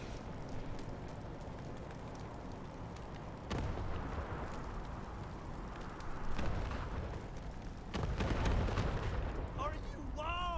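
Rocket gun explosions in Wasteland 3 come as several heavy booming blasts, a few seconds apart, each louder than the one before, over a steady rumbling game background.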